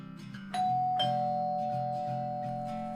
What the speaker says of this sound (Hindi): शाम के वक्त रुद्र के घर का डोरबेल बजा।